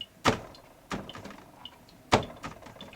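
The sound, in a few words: cabinet doors closing noisily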